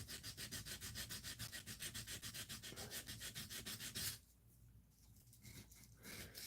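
A powder-metal steel knife blade drawn across diamond sharpening stones in a fast, even rhythm of rasping strokes for about four seconds, then going quieter with only a few softer scrapes.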